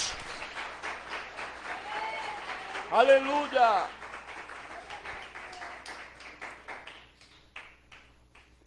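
A church congregation applauds, scattered and moderately loud, under a voice calling out an exclamation midway, then the claps fade to sparse taps.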